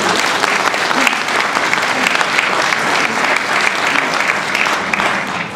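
A crowd at a Gilets Jaunes gathering in Occitanie applauds the singers, heavy uniform clapping that fills the room loudly and steadily from start to finish.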